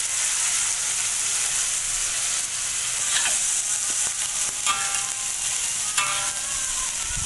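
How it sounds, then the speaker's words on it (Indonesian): Bean sprouts stir-fry in a hot pan, giving a steady loud sizzle with occasional scraping stirs close by and no voices. "pas itu jatuhkan toge dulu"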